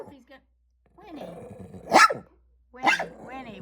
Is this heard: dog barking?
yes